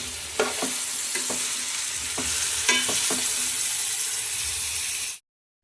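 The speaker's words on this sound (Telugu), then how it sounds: "ఒక 1 టీ స్పూన్ పసుపు, రుచికి సరిపడా ఉప్పు వేసి బాగా కలిపేసి" Turmeric and salt are stirred into bottle gourd curry cooking in a pan: a constant close sizzle and hiss broken by several distinct spoon scrapes and knocks against the vessel, ending abruptly in silence.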